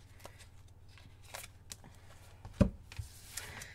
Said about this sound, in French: Si j'arrive à attraper les cartes.